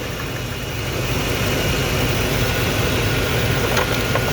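Chevrolet Suburban engine running steadily close by with its cooling fan spinning, a constant dense rumble and whir that holds an even level throughout, with no one speaking.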